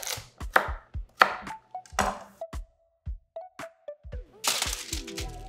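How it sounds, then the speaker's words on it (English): Carrots being roughly chopped with a knife on a cutting board, a run of irregular close, sharp chops and thunks separated by short pauses, ending in a quicker cluster of cuts. "I'm just going to roughly chop these carrots"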